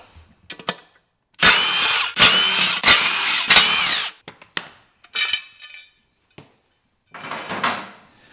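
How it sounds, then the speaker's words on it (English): A power tool with a 9/16 inch socket whirs in several short bursts, removing bolts from the beadlock ring of a Jeep Gladiator wheel, with clinks and handling noises between the bursts. "remove these 4 bolts, securing the beadlock ring to the wheel, and for that, I'll be using a 9/16 inch socket"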